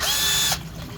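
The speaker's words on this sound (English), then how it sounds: "I've got my drill" A power drill runs in a loud, steady high-pitched whir for about half a second, then stops abruptly, leaving a quiet room tone behind.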